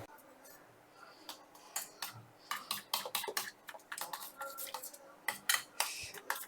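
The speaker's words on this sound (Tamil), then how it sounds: "வாங்க கலக்கிடுவோம் முட்டை." Eggs are whisked in a bowl with a utensil, a fast irregular run of light clinking and tapping against the sides, close and fairly crisp, with no talking.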